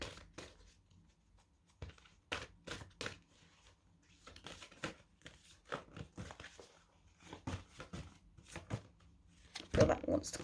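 Tarot-style colour cards being shuffled by hand, a quick run of crisp riffling flicks and taps repeating in bursts, close and fairly quiet with no voices.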